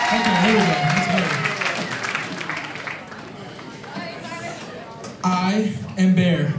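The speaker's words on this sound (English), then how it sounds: "Can you guys clap? You guys have rhythm?" A concert audience claps in rhythm at a singing competition, steady and loud, while a voice speaks and sings over the clapping.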